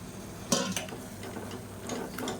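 Bottle gourd sautéing with masala and tomato in a pan, a quiet steady sizzle with a few sharp scrapes and clinks of a spoon stirring against the pan.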